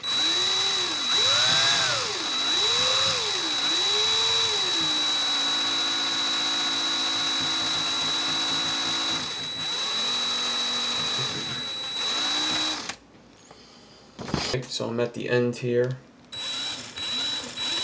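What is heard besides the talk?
power drill twisting wire for a clapton coil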